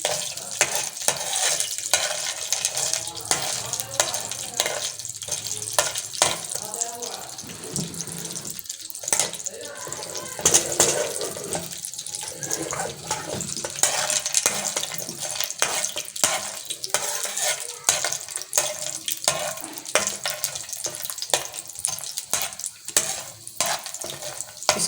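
Aloe vera halwa cooks in a pan with continuous sizzling and repeated scraping and clattering as it is kept moving, busy and close throughout, with a voice occasionally talking over it.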